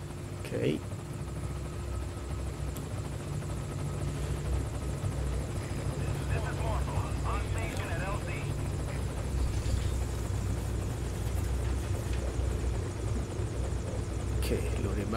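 Helicopter in the video game Metal Gear Solid V: Ground Zeroes, a steady low rotor thrum and engine drone running the whole time, close and constant, with faint scattered game effects on top.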